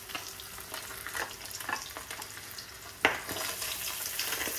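Sea bass fillets fry in hot oil with a continuous close crackling sizzle, scattered pops and one sharper spit partway through, steady and fairly loud with no voices.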